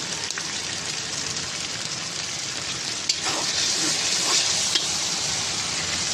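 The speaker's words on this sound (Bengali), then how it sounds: "এই মশলাটা ভালো করে কষবো।" Chilli powder, turmeric and ground cumin fry in a pan with a steady, close sizzle, a constant crackling hiss broken by a couple of brief stirring clinks.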